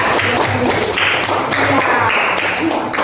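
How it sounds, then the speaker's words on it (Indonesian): A classroom of students claps for the second group after its presentation, a dense, steady patter of hands that runs the whole time, mixed with voices. "Berikan tepuk tangan kelompok 2."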